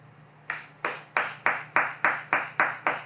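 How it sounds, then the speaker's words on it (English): Hand claps ring out nine times in a steady, fairly quick rhythm, each clap sharp and close, with a faint low hum beneath and no talking. "Who's clapping?"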